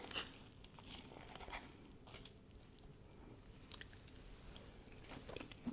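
French toast being bitten and chewed up close, with soft crunches and moist squishing chews spread across several seconds, faint and without talk.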